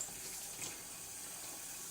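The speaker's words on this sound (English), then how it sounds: "water is going to immediately starting to come out of these pores because I already flushed it" Cold tap water flowing slowly through a Travel Berkey filter, a faint, even hiss of running water that continues steadily throughout with no talk.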